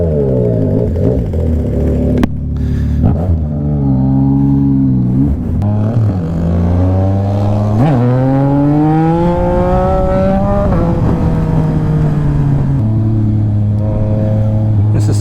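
A Yamaha MT-09 motorcycle at wide open throttle, its engine note climbing again and again through the gears with quick shift breaks, loud and close, with a voice talking over it.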